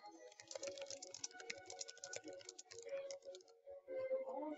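Quick, irregular keystrokes clatter on a computer keyboard as a short note is typed, close and fairly quiet, with brief pauses between bursts and no talking.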